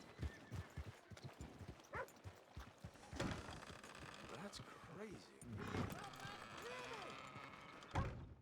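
Horse hooves clip-clopping in Red Dead Redemption 2, uneven footfalls at moderate distance mixed with other game sounds while voices talk.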